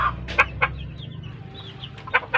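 Several short, sharp chicken clucks in bursts, close and fairly loud, over a low steady background hum.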